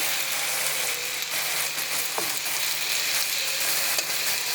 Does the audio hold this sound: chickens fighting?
no